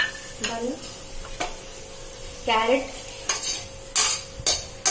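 Carrot, beans and raw banana being stirred into coconut paste for avial, with a spoon scraping and clinking against the pot in short, separate strokes over a faint hum.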